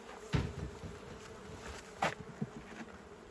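Honeybees hum steadily at low volume at an apiary hive, with a few louder buzzing passes as individual insects fly close, no voices.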